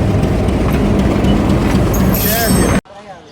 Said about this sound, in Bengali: ট্রেন আসতেছে অন দি ওয়ে